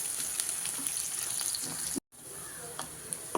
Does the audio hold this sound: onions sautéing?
yes